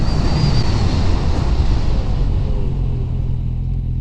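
Suzuki 650 GSXF motorcycle on a straight road at about 100 km/h, braking hard then accelerating; a steady, loud engine rumble with heavy wind buffeting on the microphone, easing slightly as speed drops.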